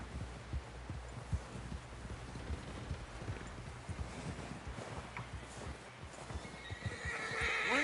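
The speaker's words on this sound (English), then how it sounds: "Someone help John down off this horse." A horse in Red Dead Redemption 2 whinnies loudly over steady clip-clopping hooves and a throbbing low rumble, the game sound continuous and close with no talk over it.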